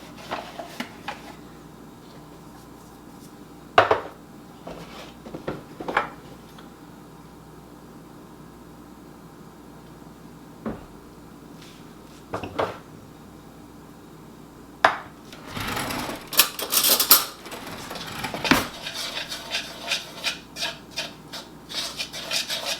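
Flour and whipping cream are stirred into biscuit dough in a bowl, giving scattered scraping and rubbing strokes that grow busier and denser toward the end, with quiet pauses early on.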